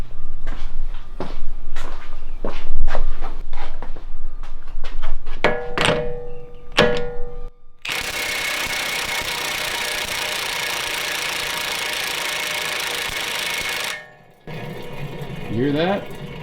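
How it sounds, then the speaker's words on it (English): Rhythmic thunks and clicks followed by a steady, loud whirring drone from a bad wheel bearing grinding on a Mercedes C63 AMG W204 while the wheel spins, then cutting off briefly. "You hear that? That's definitely a bad wheel bearing."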